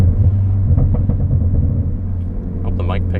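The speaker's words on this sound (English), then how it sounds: "so that the blow-off valve solenoid stays open longer, so that it actually sounds like a blow-off valve" A 2015 Ford Focus ST engine rumbles steadily up close, with a few short, sharp blow-off valve hisses bursting out near the end.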